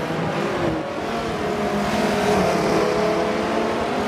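Race cars in Forza 7 circle Watkins Glen, a continuous loud engine drone that rises and falls as the cars work through the corners, with no talking over it.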